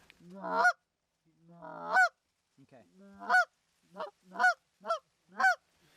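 Loud, nasal Canada goose honks from birds on the ground in a series of separate calls, some drawn out and others short and rapid, close by with a brief spoken word among them.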